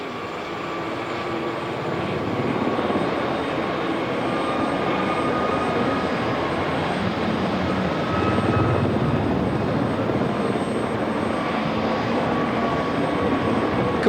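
A steady, loud roar of helicopter engine and rotor noise from a display flight, continuous throughout with a droning whine and no pauses.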